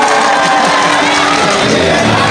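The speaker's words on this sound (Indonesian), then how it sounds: "Semuanya tepuk tangan." Big crowd of townspeople in Indramayu cheering, whooping and clapping at a public gathering, loud and sustained with shouts rising throughout.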